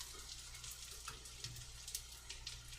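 Fish patties frying in oil in a pan, a faint, even hiss of sizzling with small pops and crackles throughout, heard alone.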